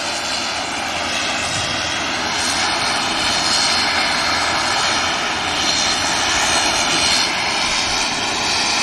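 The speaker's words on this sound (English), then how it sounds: "KLM Embraer making its way now." A KLM Embraer jet at Manchester Airport makes a loud, steady engine roar that holds close and constant throughout, with broadband rushing noise and faint tonal whine above.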